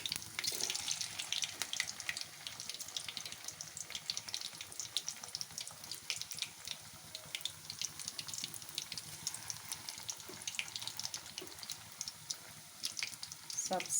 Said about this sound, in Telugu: వీటిని బాగా కరకరలాడేలాగా వేగనివ్వాలి.